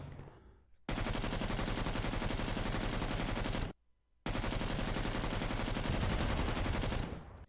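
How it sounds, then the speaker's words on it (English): Sustained automatic machine-gun fire from the video game Killing Floor 3, loud and dense, in two long unbroken bursts separated by a brief pause, with no talking over it. "I love this machine gun, by the way,"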